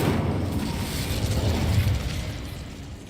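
The Incendio fire spell is cast in Hogwarts Legacy: a muffled whooshing burst of flame with a low rumble that swells and then fades out over a few seconds.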